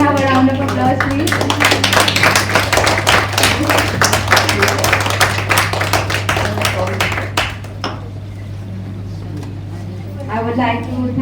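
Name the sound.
conference audience round of applause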